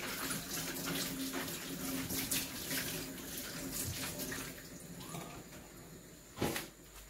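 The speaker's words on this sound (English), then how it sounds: "what I'm going to do now is to wash the spring onions. A nice wash" Tap water running over spring onions and courgettes being washed in a kitchen sink, a steady close rush of water with small splashes and one brief louder splash near the end.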